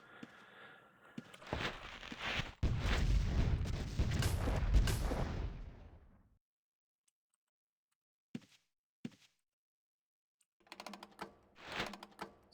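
Ship cannon fire in Ultima Online Outlands, from a large ship: a loud, rumbling broadband barrage lasting several seconds, then silence broken by a few short, fainter bursts.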